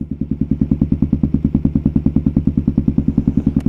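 A warmed-up Kawasaki KLR650 motorcycle engine idles close by with a steady, even thumping pulse of regular firing beats, loud and alone without any talk.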